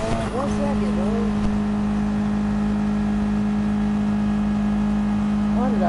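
A racing car engine in Gran Turismo 7 holds a steady, even droning hum at constant pitch, close and loud, with a faint revving swell near the start and no talk over it.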